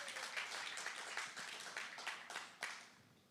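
A church congregation applauds together in a steady burst of clapping that holds for a few seconds, moderately distant and fairly quiet, then tapers away toward the end.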